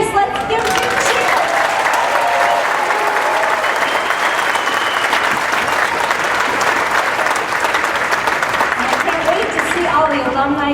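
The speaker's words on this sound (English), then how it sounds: "Let's give them a cheer." At a 2023 Norse Afternoon of Fun event marking 70 years, a large crowd breaks into sustained loud applause with cheering. The dense clapping is steady throughout, and speech sits at the start and end.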